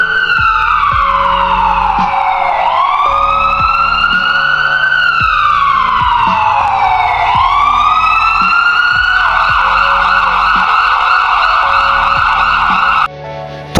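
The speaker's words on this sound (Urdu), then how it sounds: "تھوڑی ہی دیر کے بعد ایمبولینس والے آئے اور وہ اسے لے کر ہاسپٹل کی طرف روانہ ہو گئے" An ambulance siren wails loud and close, sweeping up and down in long slow cycles before shifting to a faster steady tone and cutting off near the end.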